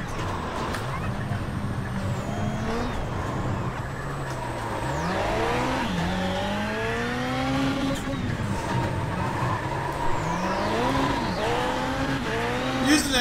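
An iRacing rally car revs and slides through a handbrake turn, tires skidding and squealing as the engine pitch swoops up and down.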